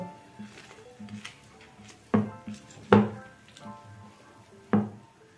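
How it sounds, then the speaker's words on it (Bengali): Jaggery and wheat flour cake batter being stirred in a bowl, with a few sharp clinks of a spoon against the bowl amid soft scraping, close and quiet with no talk. "তো এখন আমি এটাকে ভালো করে আরেকবার মিশিয়ে নেব।"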